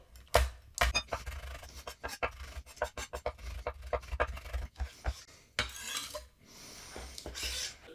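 Knife chopping chili peppers on a cutting board while preparing spicy cucumbers, a run of sharp, close taps in uneven bursts with brief pauses, no talking.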